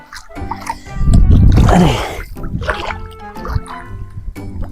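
A body plunges into deep, black peat-stained water for a bath, giving a loud, rushing splash followed by softer sloshing and dripping.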